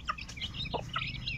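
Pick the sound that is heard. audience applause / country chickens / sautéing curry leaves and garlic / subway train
country chickens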